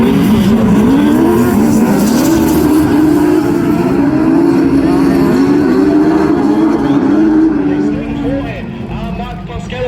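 Autograss Class 10 race cars racing at a national meeting, a loud continuous pack of engines revving and droning close by, under race commentary.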